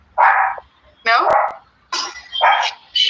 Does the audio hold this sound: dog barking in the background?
yes